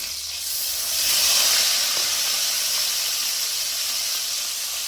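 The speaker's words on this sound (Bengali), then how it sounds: "এখন আমরা মাছগুলো উল্টিয়ে অপর পাশেও ভালোভাবে ভেজে নেব" Rohu fish pieces fry in hot oil in a pan while home-cooking fish with potatoes, giving a steady close hiss and sizzle that swells briefly near the start and then holds even, with no talking.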